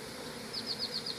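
Honeybees buzz around a hive in a low, steady hum, with a short run of faint, evenly spaced high chirps partway through.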